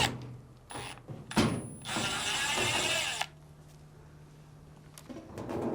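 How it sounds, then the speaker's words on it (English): Screws being backed out of the top cover of a Samsung washing machine, a short whirring driver run with ratcheting clicks and a few scattered mechanical knocks, close and fairly loud, then quieter handling. "we'll now remove the 2 screws that hold down the top cover."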